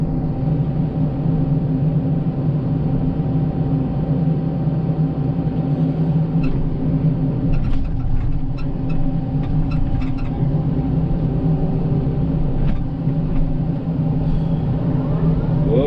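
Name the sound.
Komatsu PC88 MR-8 excavator digging with tilt bucket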